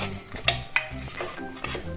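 A spoon stirs mutton curry with masala powder in a pan for a Chettinad mutton kulambu, making soft, quiet scraping strokes with a few sharper clinks against the metal.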